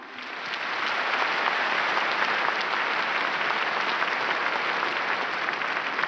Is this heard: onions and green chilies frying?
no